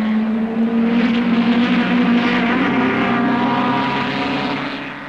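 Ford Escort saloon racing cars of the 1300cc class in the 1968 British championship run nose to tail, their engines a loud, steady droning whine that holds close for several seconds before starting to fade.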